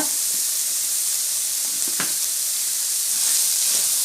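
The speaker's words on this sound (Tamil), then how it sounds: "பீன்ஸு கேரட்டை நல்லா வதங்க விட்டுடலாம்." Beans and carrots sautéing in a pan for homemade pasta, a steady close sizzling hiss with a couple of faint stirring scrapes and no talk.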